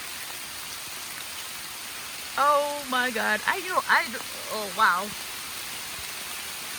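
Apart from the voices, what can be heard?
heavy rain and hail pouring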